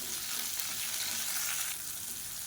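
Onion, garlic, green chilli and tomato sauté in hot oil for an onion-coriander chutney, giving a steady, close hiss that holds level and eases slightly near the end.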